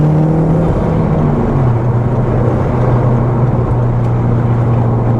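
A first-generation Audi TT accelerating hard on an open road to overtake, the engine note climbing then settling into a loud, sustained drone heard from inside the cabin, steady and uninterrupted.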